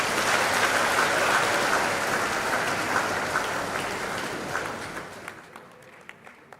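Audience applause for a university awardee at a KNUST agriculture anniversary ceremony, steady dense clapping that thins and fades over the last seconds into a few scattered claps.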